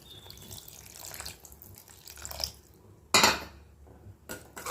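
Water splashes and trickles into a pan of dried-fish thokku amid clinking of cookware, with a louder gush partway through and light metallic knocks.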